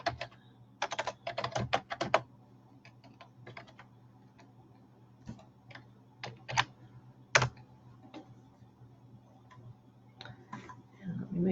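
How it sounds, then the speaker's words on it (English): Typing on a computer keyboard, with irregular clusters of close, quiet key clicks and taps spread over several seconds and a faint hum underneath. "Hold on, type it in."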